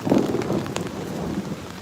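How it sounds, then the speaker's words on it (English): Thunder rumbling with rain falling in an outdoor city park square, a low steady rumble and hiss throughout with a brief sharper crack, fairly faint and continuous. "That's thunder."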